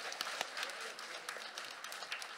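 Scattered clapping from a gathering of preschool children and adults at a kindergarten tribute event, quiet and somewhat distant, with uneven individual claps poking through a soft continuous patter.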